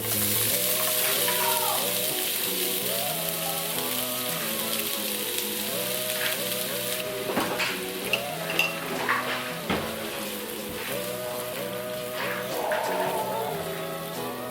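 Oil and butter sizzle in a pan while beef stroganoff is being prepared, a steady frying hiss running under prominent background music.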